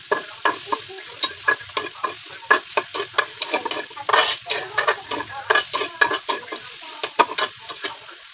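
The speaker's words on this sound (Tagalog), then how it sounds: "Hinigisa ko na yung bagoong." Shrimp paste sizzles in a hot pan while a utensil scrapes and stirs in quick, irregular strokes, close and fairly loud.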